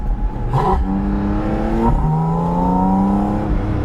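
A Porsche sports car engine revs and drops through gears, pitch climbing then falling with a quick blip between shifts, loud and close.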